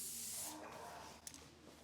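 A spray gun driven at high pressure sprays finish onto woodwork from about a foot away, giving a steady close hiss that tapers off slightly, with a faint click near the end.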